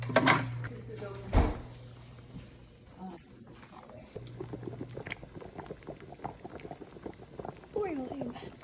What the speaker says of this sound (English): Boiling.